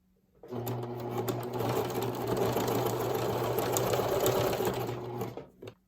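Sewing machine stitching a seam on a bodysuit, running steadily and fairly loud for about five seconds with a constant motor hum, alone and without talk.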